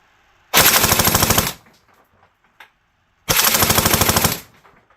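Two loud, close bursts of rapid automatic gunfire from a gun under test, each lasting about a second with a short pause between them, no voices.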